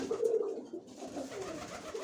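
Soft cooing of racing pigeons nearby, a few low throaty coos in quick succession over quiet background.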